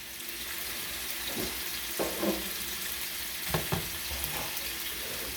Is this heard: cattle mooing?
no